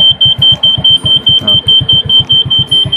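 A button on a Honda Astrea Legenda motorcycle sets off a loud, close electronic beeper: a continuous high-pitched tone pulsing rapidly and evenly over a low rhythmic throb.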